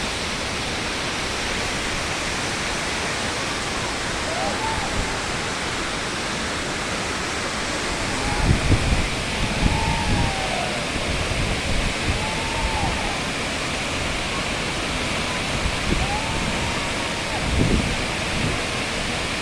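Tarabu waterfall roaring with a steady, dense rush of falling and splashing water, loud and continuous, with fainter voices of people occasionally heard beneath the roar.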